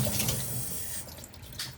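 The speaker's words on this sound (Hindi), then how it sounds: "ठंडे पानी से हाथ धुल लूँ।" Cold tap water runs steadily into a home kitchen sink while hands are washed, a close, continuous splashing rush with slight surges and no talking.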